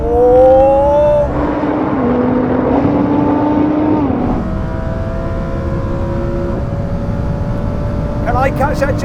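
Audi R8 and Nissan GT-R launching side by side in a drag race, engines roaring loud and close as they pull through the gears with falling and rising revs, and a voice speaks over the start.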